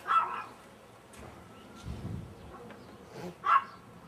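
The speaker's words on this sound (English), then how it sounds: "These damn dogs in this damn neighborhood." Neighborhood dogs barking in short, faint bursts at the start and again near the end, distant and muffled, with a low rumble in between.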